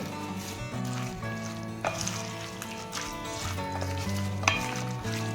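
Salad mixed with spices in a bowl gives a close, steady scraping and stirring, with occasional wet squishes and light utensil knocks. No one speaks.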